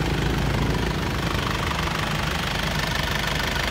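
An Isuzu Panther engine, repaired after overheating and warm from a 17 km test drive, runs close by with a steady, rough, knocking idle, a loud continuous rumble with no talking.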